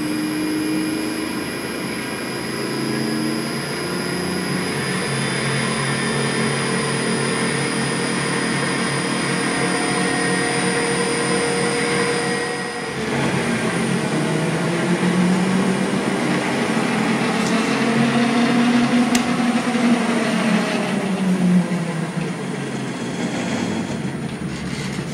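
A 2 kW electric motor driven by a speed controller starts slowly and accelerates, producing a steady hum with a whine that rises and sweeps in pitch over time, with no talking.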